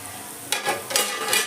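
Vegetables frying in a pan with turmeric, a soft low sizzle at first, then stirring scrapes and louder bursts of crackle as the pieces are moved about, close by and with nobody speaking.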